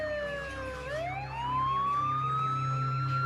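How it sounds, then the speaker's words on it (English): Wailing emergency sirens of ambulances, fire trucks and police in a city, a rising and sweeping tone held loud and steady over a low rumble of traffic, with no voices. "Ambulances, fire trucks, police sirens were constant."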